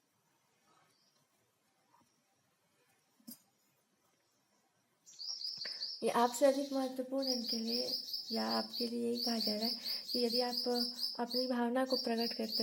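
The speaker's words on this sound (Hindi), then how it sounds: "जैसे ये रिकॉर्डिंग में चिड़िया बोल रही है" Birds chirp in quick repeated high bursts throughout, near and clear, mixed with a person speaking steadily over them after a quiet start.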